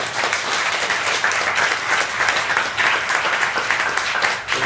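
A conference audience applauds two speakers, a dense, even wash of clapping at close range that continues without a break.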